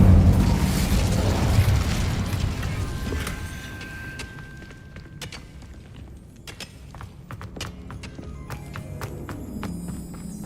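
A fire spell blast in the video game Hogwarts Legacy, a loud booming burst that fades into a crackling tail with scattered sharp clicks and rumbles, no voices.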